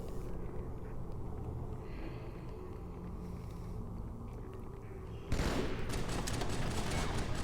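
Gunfire in the Halo game mission Sacred Icon on Legendary difficulty: a steady dense din of shots and combat noise throughout, growing louder and sharper in the final two seconds.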